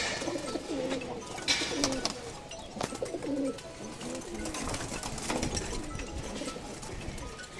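Pigeons in a fancy-breed collection in Mirpur, Dhaka, including a female, coo softly in repeated low throaty phrases over a busy, noisy background.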